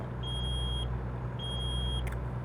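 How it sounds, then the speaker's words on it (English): Repeated electronic warning beeps from a truck in American Truck Simulator, two steady high tones about half a second long each, sounding over a constant low engine rumble with no talking. "So I'm sorry for the beeping."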